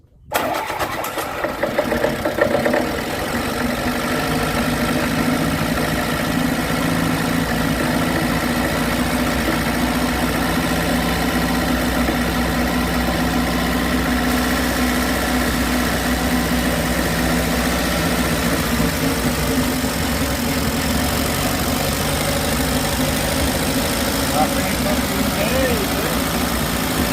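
An 80-year-abandoned Chenard-Walcker car engine catches on its first start after a brief cranking burst, then settles into a steady, loud, close idle that runs on continuously.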